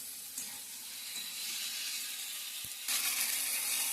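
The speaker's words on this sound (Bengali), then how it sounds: "ভালো করে একটু কষা কষা মতো করছি" Onion, garlic and ginger paste with turmeric and chili powder sizzling steadily in hot oil in a pan, a continuous close frying hiss that grows louder near the end, with a brief stir.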